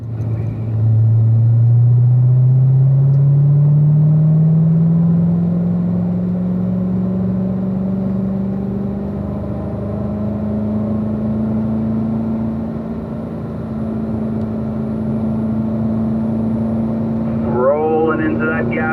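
A race car engine accelerates on track and climbs steadily in pitch through the gears, a loud, sustained drone that holds and then eases. A voice talks briefly near the end.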